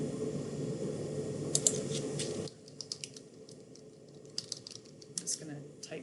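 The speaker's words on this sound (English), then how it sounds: "just going to type myself in" Soft computer keyboard typing, scattered light clicks in short bursts, faint and close, while a person speaks at first over a low background hum.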